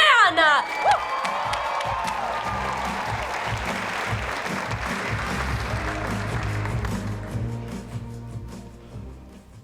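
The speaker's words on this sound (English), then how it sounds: "keep that applause going for your next poet on the mic" A youth poetry slam audience applauds and cheers, with whoops and shouts over dense clapping that is strongest early and gradually dies down.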